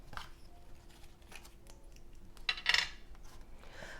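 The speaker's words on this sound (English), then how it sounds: "So I'm just gonna cut that, and then we're gonna seal our belly band." Scissors snip through a paper belly band for a Christmas treat container, a faint run of light cuts followed by a couple of louder, crisp snips near the end.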